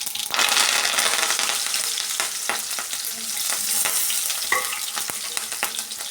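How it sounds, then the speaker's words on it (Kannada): Garlic and curry leaves frying in hot oil over low flame after mustard seeds pop, a loud continuous sizzle up close, broken by a few sharp scrapes and taps of a stirring spoon. "ಈಗ ನೋಡಿ, ಬೆಳ್ಳುಳ್ಳಿ ಕರಿಬೇವಿನ ಸೊಪ್ಪು ಸೇರಿಸ್ಕೊತಾ ಇದ್ದೀನಿ."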